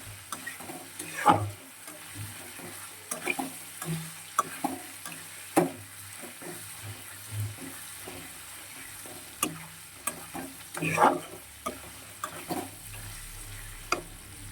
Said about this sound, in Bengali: আলুটা ভাজা হয়ে যাবে।